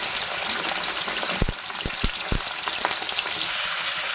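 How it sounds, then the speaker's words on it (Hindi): Mixed vegetables frying in hot oil in a kadai over a medium flame, a loud, steady broadband sizzle and hiss with a few brief clinks of the utensil in the middle. "अब मैं इसमें सब्ज़ी फ्राई करने के लिए डाल"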